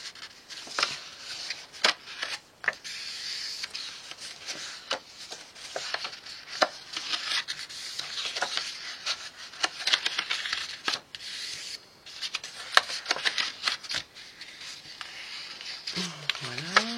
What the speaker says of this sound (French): on essaye de bien marquer un peu les plis pour que ça puisse fonctionner comme il faut